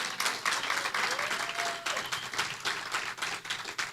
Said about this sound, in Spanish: Dile un aplauso al Señor por eso.